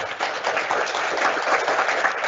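Steady applause from an audience at a town hall meeting, a brief burst of many hands clapping at moderate loudness, fairly close and continuous.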